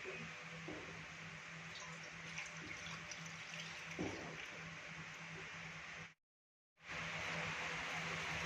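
Ground masala water is poured into fish curry, a steady, faint watery pour and hiss that runs throughout and cuts out briefly near the end.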